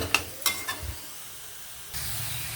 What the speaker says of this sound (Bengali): এবার দেখুন পটল, ঝিঙে আর আলু ভেজে রাখা আমি এবার মশলার সাথে একটু ভালো করে কষিয়ে নেব